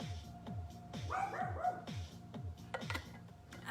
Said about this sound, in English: I've got a 10-pound guard dog.